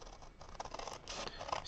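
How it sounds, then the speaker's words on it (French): Small scissors snipping through paper rectangles for a scrapbook project, a quiet close run of soft crisp cuts and rustling lasting under two seconds. "On va prendre nos petits ciseaux et reprendre les deux grands rectangles"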